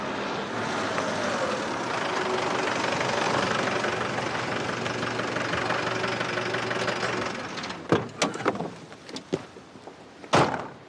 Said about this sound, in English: Gearbox has gone, hasn't it?